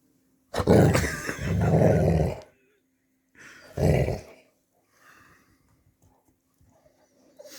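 A playful dog growls and grunts in two loud close bursts, the first longer, followed by faint scattered snuffles and quiet noises.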